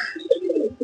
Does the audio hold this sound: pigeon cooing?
yes